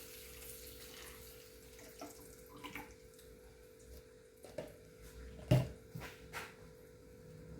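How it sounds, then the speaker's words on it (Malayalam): Buttermilk pours and splashes into a pot in a few uneven bursts, with soft clinks and a faint background hum. "നമുക്ക് മോര് ഒഴിക്കാം"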